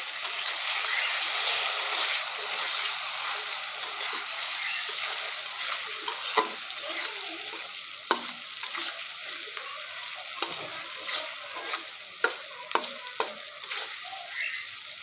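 Guchi and poya fish sizzle steadily in a pan of cooked-down spiced masala, a continuous frying hiss with occasional sharp spatters and stirring clinks, fairly close, with no talking.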